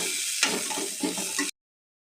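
Ginger and garlic frying with cumin in a pan for a kohlrabi and fish curry, a short close sizzle with a sharp clatter as the spoon stirs, then abrupt silence.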